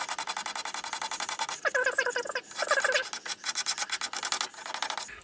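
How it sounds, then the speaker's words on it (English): A sharp scraper drawn over the limb of a primitive yew bow gives a close, steady rasping, with a run of rapid scrape strokes, a brief pause, then more rhythmic strokes. "Sometimes it's hard to find which way to scrape, and a nice sharp bit on the edge of your scraper."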